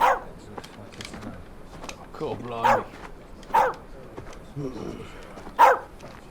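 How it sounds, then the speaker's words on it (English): A dog barks a few times amid a busy scene, short sharp yelps spaced out between and over people talking. "It was my dog. saying hello to you."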